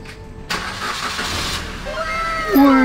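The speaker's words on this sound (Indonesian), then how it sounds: "pakai mesinnya, Chevrolet. Mesinnya mantap" A Chevrolet-engined car starts with a sudden loud burst after a quiet moment and settles into a steady running drone, with a rising whine near the end and nobody speaking.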